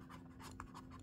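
A pen writes on a paper page in quick, quiet scratching strokes, several short bursts in a row with no voices.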